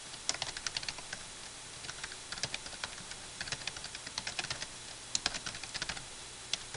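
Someone types on a computer keyboard while filling in account details on an online backup service signup form, producing quick, uneven bursts of close, crisp key clicks with short pauses between them.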